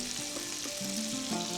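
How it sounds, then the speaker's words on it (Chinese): Chicken legs fry in butter on an electric baking pan, giving a continuous close sizzle with faint whistling tones running through it; no talk. "下面我给鸡腿翻个面，我刚才大约煎了2分钟左右吧"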